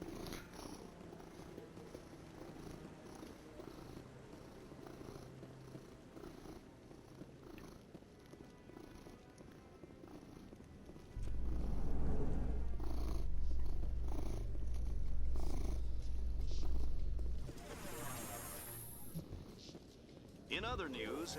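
A cat purrs in a long, steady, close rumble while someone talks over it and video game sounds play in the background, with the purring growing louder partway through.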